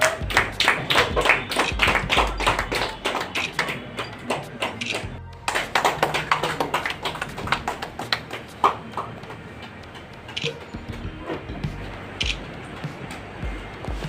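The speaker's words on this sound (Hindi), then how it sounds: "तालियां बजती रहनी चाहिए।" Applause at a gathering honoring food bank volunteers, with many scattered claps continuing steadily in a crowd, briefly pausing and resuming, fairly distant and mixed with room noise.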